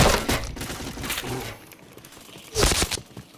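Gunfire from the PointBlank video game, a rapid burst of loud cracking shots up front, then a quieter stretch and another sharp burst near the end.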